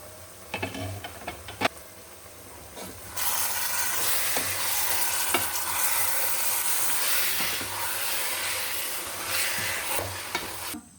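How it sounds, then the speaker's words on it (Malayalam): Marinated chicken stirred into a chicken biryani gravy in a pan: a few scrapes and taps, then a loud steady sizzle and hiss of frying that continues to the end. "ഒന്ന് ഇളക്കി കൊടുക്കാം."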